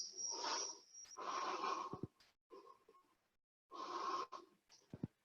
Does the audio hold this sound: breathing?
yes